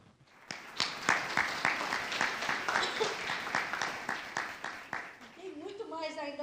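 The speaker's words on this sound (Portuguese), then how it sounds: "vamos aplaudir ao Senhor" Church congregation applauding in praise during a worship service, a steady run of claps that fades out as a voice and music come in at the end.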